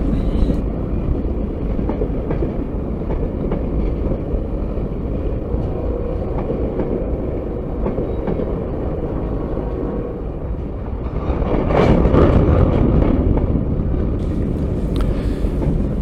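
A heavy freight train rumbles past close by, a continuous loud rolling drone of wheels and cars, swelling briefly with clattering near the end.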